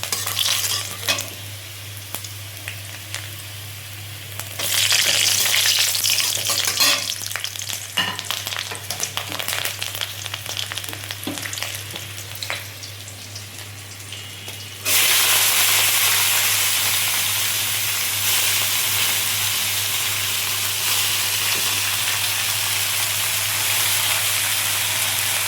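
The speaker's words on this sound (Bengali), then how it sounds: "এই রসুন ফোড়ন দিয়ে দিচ্ছি, শুকনো লঙ্কা, রসুন সব ফোড়ন দিয়ে এবার শাকটা আমি দেবো।" Red amaranth greens with garlic and dried chili frying in hot oil, a continuous loud sizzle with stirring scrapes, jumping sharply louder partway through as more goes into the pan.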